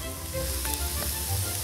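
Steady crackling sizzle of butter in a hot frying pan as meatballs are placed in it, continuous and close, with a faint clink partway through.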